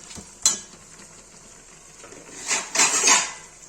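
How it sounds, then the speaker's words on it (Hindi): Metal clatter of a lid settling onto a cooking pot of Kashmiri mushroom and capsicum sabji, two or three short clanks with a scraping rattle near the end, close and fairly loud, no talking. "ऐसा कर लिया है, इसको ढक के रख देंगे"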